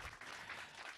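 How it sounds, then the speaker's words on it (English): Audience applause breaks out for a transgender women's panelist at a sexual health discussion, a dense, steady wash of clapping from a crowd for about a second. "give her a round of applause for Ms. Queen"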